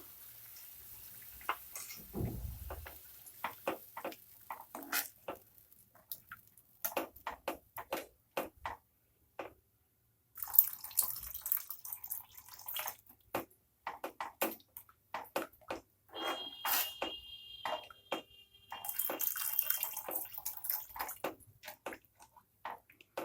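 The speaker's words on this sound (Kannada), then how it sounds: "ಈಗ ನೀರು ಹಾಕ್ಕೊತಾ ಇದ್ದೀನಿ ನಾನು" Water splashes and trickles into a metal pot for chicken keema gravy, with scattered clinks and knocks of utensils throughout; no one speaks.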